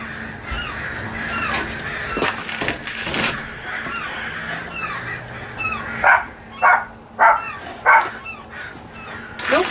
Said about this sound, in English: It was a pair of seagulls that the crows are attacking